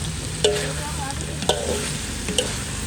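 Mixed vegetables sizzle in a pan while being stirred, with a steady frying hiss and three sharp clacks of a utensil striking the pan at regular intervals.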